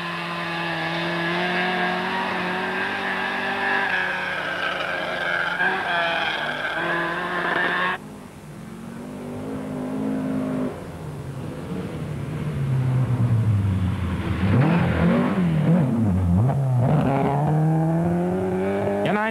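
A rally car races along a special stage at a 1989 rally in Kangasniemi, Finland. The engine screams at high revs through gear changes, dips briefly, then swells louder and closer with a wavering, throaty roar.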